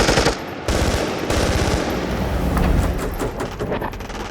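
Soldiers fire their guns in a staged war battle, bursts of rapid machine-gun fire and overlapping gunshots that crackle loudly and continuously up close.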